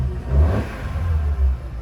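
Revving from a Vauxhall Corsa C track car engine, heard from inside the stripped cabin while in neutral, comes in two close loud pulses of rising low rumble over a steady idle. No voices.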